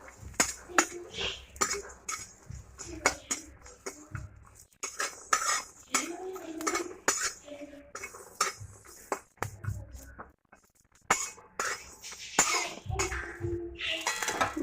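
A utensil scrapes and clinks against a pan while garlic and nigella seeds fry. The clatter comes in repeated bursts, close and fairly loud, with a brief pause near the middle.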